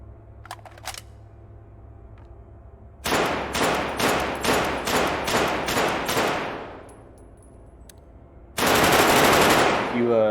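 EBR rifle gunfire in the video game Dead Matter, a burst of about eight loud, evenly spaced shots, a pause, then a louder sustained blast, preceded by faint clicks.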